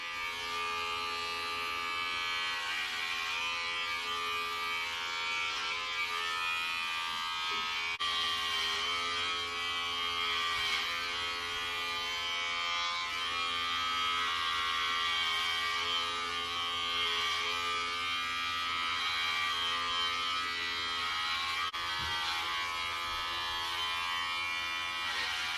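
Electric hair clippers fitted with a guard buzz steadily during a self haircut, a close, continuous electric hum with slight shifts in pitch and load as the clippers move through hair.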